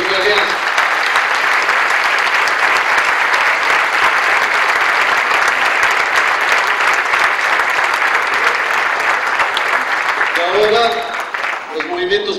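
Loud, close applause from an Alianza País political gathering, a thick sustained roar of clapping that rolls on for about ten seconds before tapering off, with some voices rising near the end.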